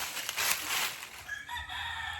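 A rooster crows over general background noise, with farmyard clucking around it.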